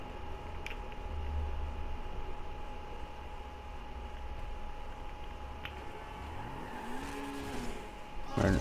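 A car accelerating in GTA 5 Online, a steady engine drone with a rising whine near the end and a sharp burst at the close, fairly loud with no voices.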